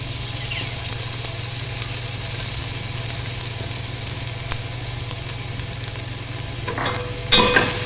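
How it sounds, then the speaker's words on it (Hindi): Grated carrots roasting with cardamom in a pan give a steady, even sizzle throughout, with faint scraping of a stirring spoon and a few sharper clinks near the end; no one speaks. "और इसको अच्छे से भूनेंगे हम।"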